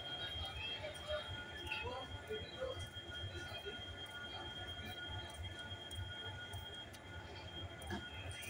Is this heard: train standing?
yes